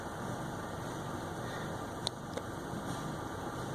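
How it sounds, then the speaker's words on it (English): Quiet, steady idle of a 2010 Chevy Malibu 2.4-liter engine with a slight misfire, a low continuous hum with a couple of faint ticks and no talking. "Still got a little bit of a miss, but there's no check engine light."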